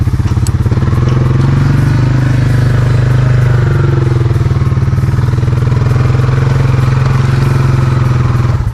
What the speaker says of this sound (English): I just need to get it to turn.